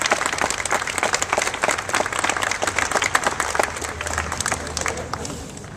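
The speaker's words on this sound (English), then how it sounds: "Can we clap?" Audience applause at a mayor's civic event during a check presentation, a dense, lively round of many hands clapping close by that holds for several seconds before easing slightly.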